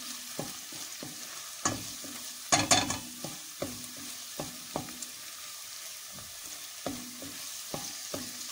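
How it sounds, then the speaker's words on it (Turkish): Tomato paste sizzling in a pan as it is stirred for a green lentil and noodle soup, a steady close fry with repeated light scraping strokes of the spoon and one louder clatter. "Salçamızı güzelce kavurdum. Şöyle bir iki daha çevireyim."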